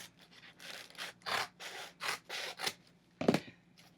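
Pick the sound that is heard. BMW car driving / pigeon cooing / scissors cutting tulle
scissors cutting tulle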